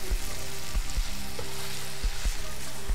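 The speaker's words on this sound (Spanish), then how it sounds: "Vamos a hacer un pequeño sofrito, el bacalao, los boletus," A small sofrito of cod, boletus mushrooms, garlic, saffron and onion sizzles steadily in a pan, a close, continuous frying hiss broken by soft thumps of stirring.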